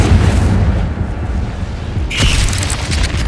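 A fiery spell is cast in the Hogwarts Legacy game, a loud rumbling whoosh that builds into a bright crackling burst of flame in the final second, alone without talk.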